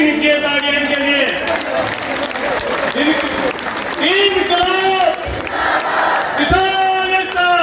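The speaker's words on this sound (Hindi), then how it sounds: "हम सब उनका तालियां रुकनी नहीं चाहिए, तालियां इनके लिए।" A large crowd of farmers at the Tikri Border protest claps loudly and continuously to welcome fellow farmers who walked 150 km. Whoops and chanting voices rise over the dense applause, which stays loud and close throughout.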